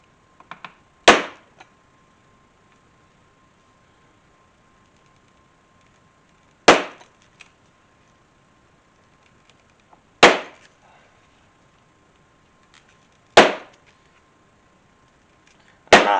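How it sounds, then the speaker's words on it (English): A hand punch is struck into a leather cuff pattern: five sharp, isolated mallet blows spaced a few seconds apart, each a loud crack with a quick decay over a quiet room. "see if I can punch the holes in my pattern"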